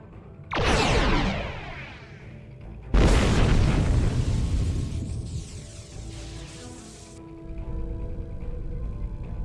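Two heavy booms from torpedo strikes in the space combat game Star Trek Online, the first near the start and a bigger, louder one a few seconds later, each followed by a long rumbling, crackling decay with a lingering hum.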